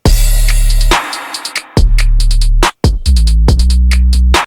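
A heavily compressed bass with a slow release plays loud and dense, its deep sustained notes broken by short gaps and topped with clicky percussive hits.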